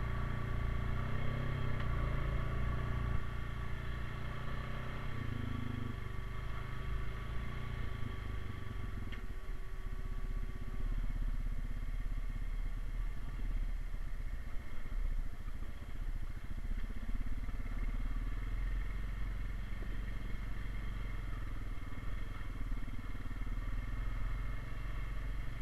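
A 2020 Honda Rubicon 520 ATV runs along a dry trail in high gear. Its engine drones loudly and steadily for the whole stretch, with the pitch shifting a few times as the throttle changes.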